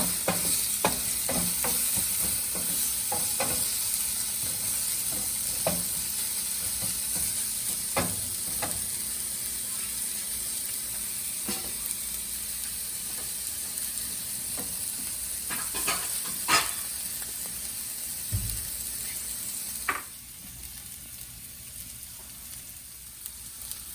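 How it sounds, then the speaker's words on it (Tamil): Vegetables for egg fried rice sauté in a hot pan, a steady close sizzle broken by frequent scraping and stirring clatters from a spatula, continuing without talk before the sizzle drops slightly near the end. "இதெல்லாம் சேர்த்துட்டு ஒரு 2 மினிட்ஸ் சாட்டே பண்ண போதும்."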